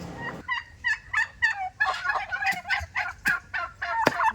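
A turkey gobbles repeatedly in rapid, warbling bursts, loud and close, with no talking.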